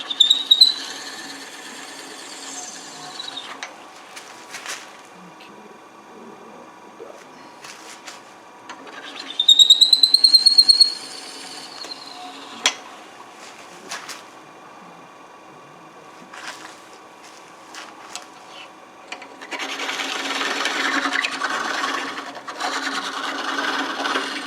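A spindle gouge cuts a wooden hollow form spinning on a lathe, giving scraping, rasping passes that rise and fall in bursts, with a louder sustained stretch of cutting near the end, close and unaccompanied by talk.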